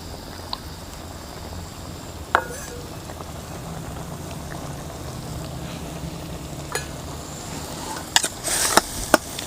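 Tomatoes frying in half a cup of ghee for a mutton karahi give a steady, low bubbling sizzle throughout, with a few sharp pops and crackles near the end.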